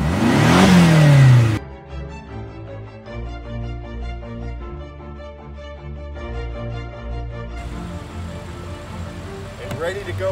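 A 2018 BMW X5 M all-wheel-drive SUV with a 4.4-liter twin-turbo engine accelerates, a loud rising roar at first, then a steadier mid-pitched engine drone, with voices talking over it.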